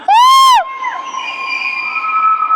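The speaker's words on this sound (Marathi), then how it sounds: "या गोल गुंबजमध्ये एक वेळा जर ओरडलं तर 7 वेळा आवाज येतो." A single loud shout rings out under the huge Gol Gumbaz dome in Bijapur, Karnataka, then hangs in a long, sustained reverberant echo that slowly fades across the stone interior.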